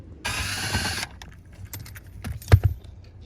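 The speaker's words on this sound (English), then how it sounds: "and then we can take this cover off" Interior trim cover on a Mercedes C-Class being removed after its T20 screws are out: a second of dense plastic rattling and scraping, then scattered faint clicks and two sharp snaps of the cover coming free, close and alone.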